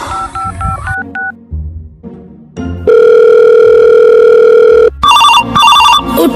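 Telephone keypad tones beeping through a rapid dialing sequence, followed by a long steady ringing tone and then more dial beeps, loud and close with no talking.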